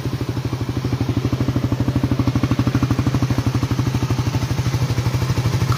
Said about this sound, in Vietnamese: Rồi mình sẽ nổ máy cho các bạn là nghe lại một chút nữa nha